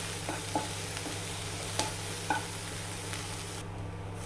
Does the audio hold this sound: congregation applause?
no